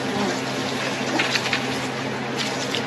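Steady water trickling and running near a lake during spring ice breakup, a continuous wash of flow close by with faint bird calls in the background and no talking.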